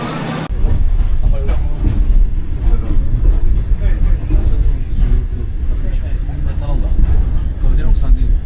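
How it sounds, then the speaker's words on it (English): A slow passenger train in China, between Chongqing and Wulong, rumbles steadily along with a constant low roar and faint rhythmic clatter, heard from inside a carriage with voices murmuring in the background. "we're taking the super slow train"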